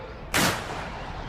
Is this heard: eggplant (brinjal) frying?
no